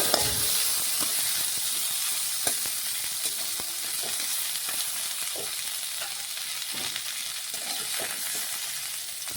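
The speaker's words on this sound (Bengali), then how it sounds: "ডিম আলু ফুলকপি সমস্ত কিছু আমি ভেজে তুলে নিচ্ছি" Eggs, potato and cauliflower sizzle and crackle steadily in hot mustard oil in a wok, with occasional pops and stirring clinks, close and continuous without talking.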